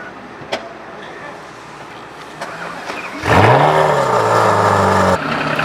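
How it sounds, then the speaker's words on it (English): An Apollo IE supercar on a public street, with low engine hum and ambient noise that swells into a loud, rising rev and roar from about the midpoint, holding steady before easing slightly at the end. "When you're driving in the Apollo IE."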